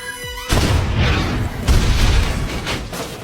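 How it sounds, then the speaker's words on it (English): A film explosion from a rocket launcher strike hits after a brief tonal lead-in, a heavy boom followed by a second blast and rolling rumble with debris-like crackle, loud and sustained. "the explosion accidentally triggered the minefield's countdown"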